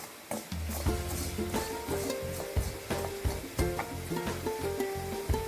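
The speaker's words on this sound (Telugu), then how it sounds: "టీ స్పూన్ జీలకర్ర కూడా వేసుకోవాలి వేసుకుని రెండు త్వరగా వేయించుకోవాలి" Cumin seeds frying fast in a pan during preparation of a bitter gourd fry, a steady crackle and sizzle with repeated clinks of stirring close by, no voices.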